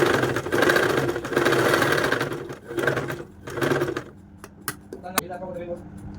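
Sewing machine stitching a kids' frock, running in loud steady bursts of rapid mechanical whirring, stopping and starting several times, followed by clicks and someone talking.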